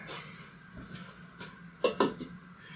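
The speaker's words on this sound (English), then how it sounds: "put the cover on it" Quiet kitchen background, then two sharp metallic clanks close by as a lid is set onto a pot of simmering chicken cheddar chowder.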